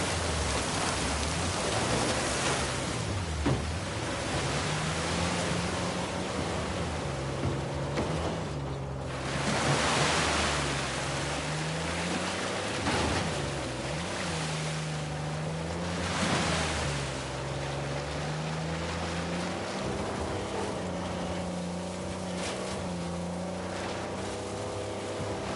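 A waterfall roars steadily inside a cave in the game Uncharted 4, a dense, constant rush of falling water with a low engine-like hum underneath and no talk.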